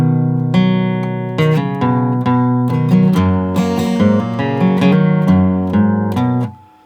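Acoustic guitar tuned down a half step plays the opening line of a song, a sequence of plucked notes and chords with clear ringing sustain, close and solo, fading out at the end.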